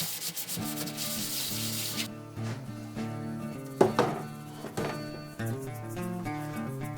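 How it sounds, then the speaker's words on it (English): Light 220-grit sandpaper strokes rub across wood in a soft, continuous scratch, with a couple of knocks partway through, beneath background music. "we're just going to do a light sanding at 220 all over"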